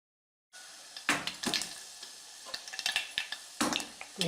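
Spices and lentils fry and crackle in hot oil in a pan for dal rasam: cumin, mustard seeds, urad dal, chana dal, fenugreek and coriander seeds. Sizzling starts abruptly and is punctuated by sharp pops and stirring scrapes.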